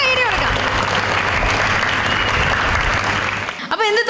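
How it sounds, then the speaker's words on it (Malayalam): An audience at an acting workshop event applauds to welcome a guest on stage, a loud dense burst of clapping that fades near the end as a voice begins speaking. "നല്ലൊരു കൈയടി കൊടുക്കാം."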